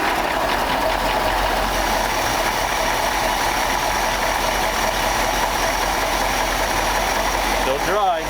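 A 1965 Ford F600 truck engine idles steadily nearby, a continuous low rumble with faint mechanical ticking throughout, ending in a brief higher sweep at the close.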